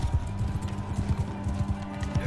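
Rapid clip-clop of horse hooves galloping in the medieval combat game Mount & Blade II Bannerlord, a steady close rhythm of hoofbeats with game battle noise and a voice talking over it.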